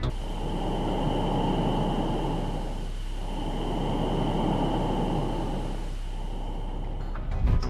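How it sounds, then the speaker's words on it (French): Space plasma orbiting Earth, captured by NASA's Polar mission and rendered as sound: a steady, breath-like whistling wash of noise with a constant high tone, swelling and easing gently, continuous and alone with no voices. "C'est le son du plasma en orbite autour de notre planète."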